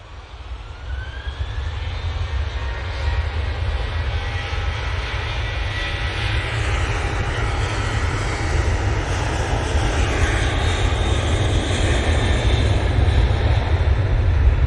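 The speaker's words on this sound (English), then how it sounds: "Emirates 777-300ER now coming in from Dubai" An Emirates Boeing 777-300ER arriving from Dubai roars in loudly, a heavy low rumble building and holding steady with a rising and falling jet whine overhead, close and continuous.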